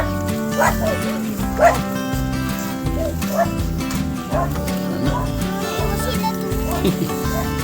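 A dog barks and yips several times, fairly close, over a constant low engine hum with people talking throughout.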